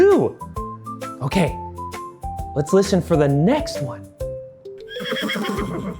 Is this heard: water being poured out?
no